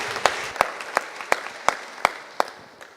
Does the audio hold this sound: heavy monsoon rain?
no